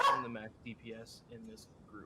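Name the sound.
dog barking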